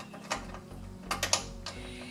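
A hand ratchet snugs down the bolts holding a car door's window glass, giving a few quick clicking bursts and short mechanical ratcheting strokes up close, with no talking.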